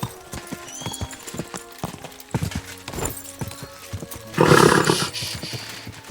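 A horse in Kingdom Come: Deliverance II gallops with steady clip-clop hoofbeats, then lets out a loud, drawn-out neigh near the end, with a faint voice in the background.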